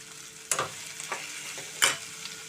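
Curry leaves sizzling in hot oil for Bombay chutney, a steady crackle broken by two sharp scraping stirs of a spoon in the pan.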